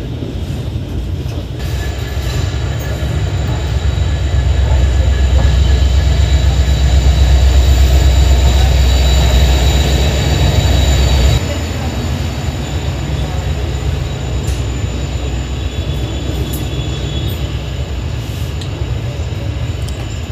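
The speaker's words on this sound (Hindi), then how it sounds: "ट्रेन रुकी आकर के प्लेटफॉर्म नंबर 4 पे" Haridwar Bikaner Express 14718 rolling into platform 4, a loud steady rumble of wheels and wagons that eases off partway through as the train slows and stops, with rail noise continuing underneath.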